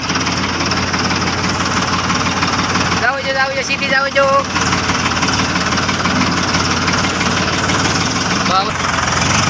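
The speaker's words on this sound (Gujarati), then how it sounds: "અમે ટ્રેક્ટર લઈને જઈ જઈએ વાડીએ" A steady, rumbling tractor engine drone runs throughout, with a person talking over it near the start.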